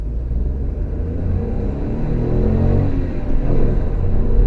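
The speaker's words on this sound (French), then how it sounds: "on se retrouve à bord de notre petite Ford Fiesta" A small petrol Ford Fiesta from 2023 pulls away in first gear, its engine note rising steadily under a heavy, continuous low rumble from inside the cabin, with no talk over it.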